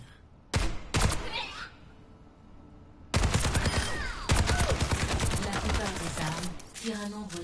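Gunshots hit training robots in Overwatch 2 as a few sharp, close single shots, then a rapid rattling burst of fire with a faint voice in the background.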